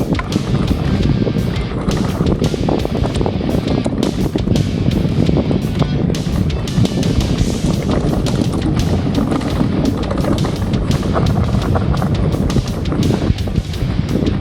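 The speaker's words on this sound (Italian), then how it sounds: "sperando che il vento non faccia troppo bordello" Loud, constant wind buffeting the microphone on a mountain bike trail, a rough roaring rumble with irregular gusts and crackles throughout.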